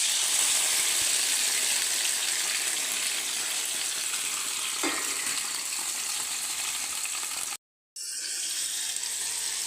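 Seafood frying in a pan, a steady bright hiss and sizzle running throughout, with a brief clink midway and a short cut to silence near the end before the sizzle resumes.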